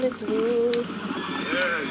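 A horse in Red Dead Redemption whinnies with a quavering, rising-and-falling call, followed by a second shorter neigh, fairly clear over a faint background.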